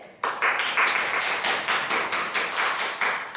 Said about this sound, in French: Applaudissez la tour carrée.